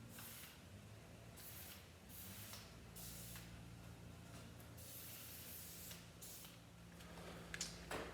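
Repeated bursts of aerosol spray onto a garage door rail, a steady hiss in several short sprays of about a second each, over a low mechanical hum.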